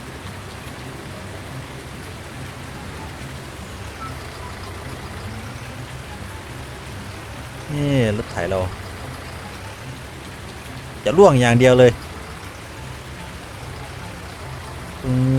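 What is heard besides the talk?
rain falling in a video game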